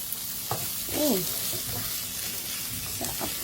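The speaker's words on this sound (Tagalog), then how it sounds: "Titira natin ditong onion at yung sili." Onion and chili sizzle steadily in a pan for chicken sisig, a continuous frying hiss with a few scraping stirs, while a voice briefly speaks over it.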